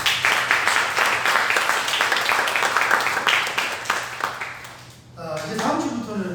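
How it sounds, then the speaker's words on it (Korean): A crowd claps steadily for several seconds, the applause fading out before a voice begins speaking. "우리 감사의 박수 한번."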